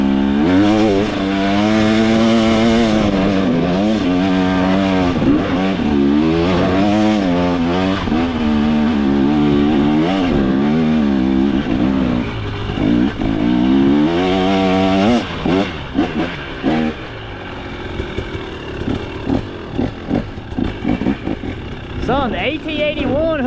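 A 2025 KTM 300 XC two-stroke dirt bike revs hard while being ridden in second gear, its loud buzzing engine rising and falling in repeated wavering surges, then breaking into choppy bursts, with a voice talking over it.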